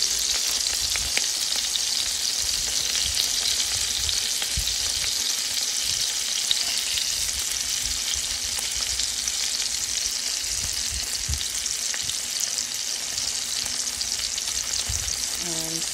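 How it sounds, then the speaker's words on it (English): Jalapenos sauté in butter in a pan for a breakfast egg casserole, giving a steady, close sizzle of frying with occasional soft stirring scrapes throughout, no talking. "And saute them a bit too."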